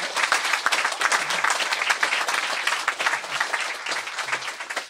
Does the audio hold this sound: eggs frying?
no